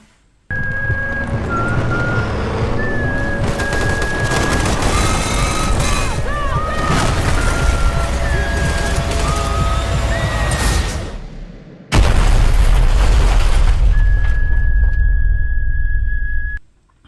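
A Civil War film battle scene plays as a loud, dense soundtrack of gunfire bursts and explosions mixed with whistling tones and music, continuous and booming, with a sharp cut partway through.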